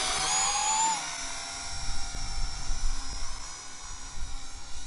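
A Syma X5A-1 RC quadcopter drone spins up its rotors, giving a steady high-pitched electric whine with a rising pitch sweep near the start, then a rougher buzzing hum that fluctuates as the motors settle.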